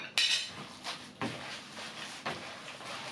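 A spoon scrapes and knocks against a bowl while it mixes a kebab mixture of minced meat with yogurt and onions, giving a few distinct clinks and scrapes at an uneven rhythm, close by and moderately loud.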